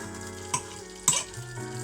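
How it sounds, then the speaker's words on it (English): Salmon fries in a hot pan with a steady, close sizzle, broken by a couple of sharp scraping or stirring clatters from the pan. "frying salmon"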